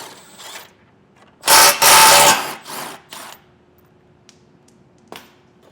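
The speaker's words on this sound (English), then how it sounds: "Now we'll take an 18mm socket and get a couple nuts removed on each side." An 18mm socket spins off nuts on a 2025 BMW X3 during a trailer hitch install: one loud, sustained mechanical burst, then a few shorter rattling bursts and sharp clicks separated by quiet gaps.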